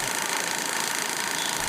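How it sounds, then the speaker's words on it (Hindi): A rough, steady Mahindra Scorpio diesel SUV engine idles close by, a coarse low rumble with a rattling, uneven texture running the whole time. "इसकी इंजन की साउंड आप ध्यान से सुने, साउंड कितनी ज़्यादा ख़राब है।"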